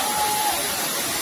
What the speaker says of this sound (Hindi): ऊपर से झरना बहुत खूबसूरत लग रहा है, ऐसा झरना मैं तो पहली बार देख रहा हूँ